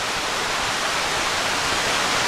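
Rushing water from a waterfall at Cottonwood Falls in Worlds End State Park, Pennsylvania, a steady broadband roar that stays loud and unbroken throughout with no voices.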